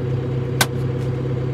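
A John Deere 5100E tractor engine idles low at minimum throttle, a steady close rumble throughout, with one brief sharp click or knock partway through.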